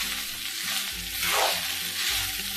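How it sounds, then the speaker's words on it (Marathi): Soaked poha stirred in a hot pan for kande pohe, giving a steady broadband sizzle with soft scraping, close and fairly loud, with faint background music underneath. "आता ते छान प्रकारे हलवून घ्यायचे आहे।"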